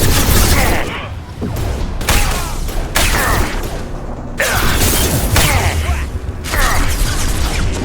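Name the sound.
gunfire in Mass Effect 2 video game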